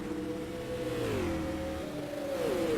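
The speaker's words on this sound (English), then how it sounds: "Hitting the rev limiters down the backstretch" Non-wing supermodified race car engines at the Copper World Classic scream down a backstretch, a steady high-revving drone with pitch sweeping up and down as they bounce off the rev limiter, loud and continuous.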